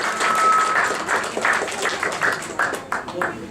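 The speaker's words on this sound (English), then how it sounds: "we should give a big round of applause" Applause from a crowd, a steady wash of many hands clapping that fills the whole stretch, with a few voices and whistles over it.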